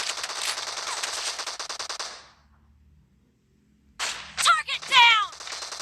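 Rapid automatic gunfire in the mobile game PUBG Mobile, a fast rattling burst lasting about two seconds, then near silence, then more shots with whizzing ricochet-like tones.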